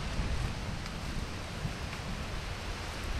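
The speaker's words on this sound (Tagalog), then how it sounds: "Bumalik nga yung hangin" Wind gusting over a swollen, fast-flowing river, making a steady, loud roaring rush that barely changes from start to finish, with no voices.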